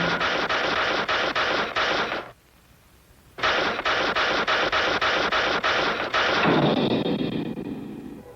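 Cartoon gunfire from the 1966 Hulk animated series: a rapid, evenly spaced string of loud shots, a brief silent pause, then another long rhythmic volley that trails into a rumbling roar.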